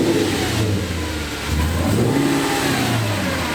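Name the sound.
Audi RS4 revving with Stainless Creations exhaust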